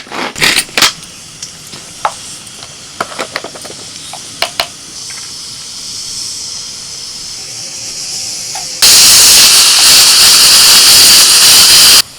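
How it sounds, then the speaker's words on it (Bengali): A kitchen pressure cooker lets off a loud, steady rush of hissing steam for its last few seconds, after a run of sharp clicks and knocks, with no talk. "প্রায় চার থেকে পাঁচটা সিটি পড়ে গেছে প্রেসার কুকারে"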